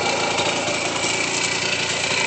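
A 1982 Honda MB5 motorbike engine runs close by with a steady, buzzing high-pitched drone, holding an even pitch with no clear rise or fall over a couple of seconds.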